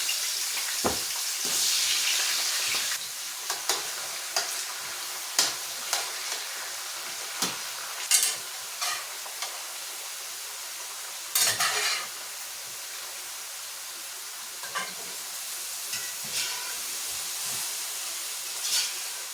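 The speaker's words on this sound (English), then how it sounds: "So while those fries are cooking, I'm gonna get my bread ready." French fries sizzle in hot oil with a steady soft hiss, broken by repeated sharp bursts of crackling and stirring clatter at close range, with no voices.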